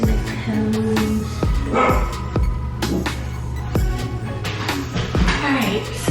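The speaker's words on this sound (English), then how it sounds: "my neighbor's dog is having a fit" A neighbor's dog barks repeatedly in sharp, separate bursts spread across the span, fairly close and loud, over a low steady hum with some voice in the background.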